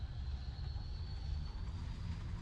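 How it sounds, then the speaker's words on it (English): A tram ride in Star Wars: The Old Republic on Corellia, a low steady rumbling drone with a thin whine above it, continuous and even throughout, with no voices. "I do love this tram thing that they've got."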